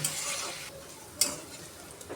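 Pointed gourd peels fry in oil in a pan with a close, continuous sizzle, broken by a couple of quick stirring scrapes and light utensil clinks.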